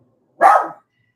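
A dog named Domino gives a single short, sharp bark, close and loud, in otherwise quiet surroundings.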